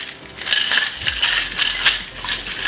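Cocktail tin packed with ice shaken hard for a long stretch, giving a steady, loud, rhythmic rattle of ice against metal close up, with no talk over it.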